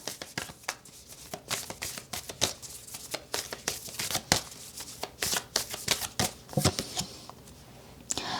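Tarot cards shuffled by hand in quick, crisp riffles and soft slaps, repeated rapidly and close up.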